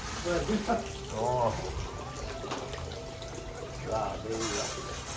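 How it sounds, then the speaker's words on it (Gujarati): Water pours into a clay pot at home, with a gentle running splash under voices and a couple of louder bursts of talk. "માટલું લાવ્યા, માટલું ભર્યું પાણી"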